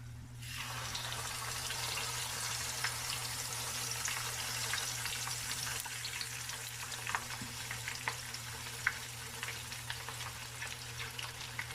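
Fish being laid into hot oil in a skillet for Jamaican escovitch sets off a loud, steady broadband sizzle with scattered crackles and pops, joined by a low constant hum, with no one speaking.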